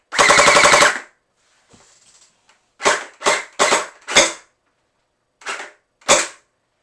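Gel blaster HPG-700 firing old Orbeez gel balls kept three months in a bottle: one long buzzing burst, then a string of sharp separate shots at irregular intervals, close and loud with quiet gaps between.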